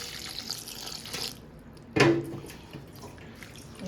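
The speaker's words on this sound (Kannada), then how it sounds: "ಮೆಂತ್ಯ ಸೊಪ್ಪು ತೊಳ್ಕೊಳಕ್ಕೆ ನೀರು ಹಾಕತ್ತೀನಿ." Water flows from a kitchen tap to wash fenugreek leaves: a faint trickle first, then a brief louder gush of running water that tapers off into quiet dripping.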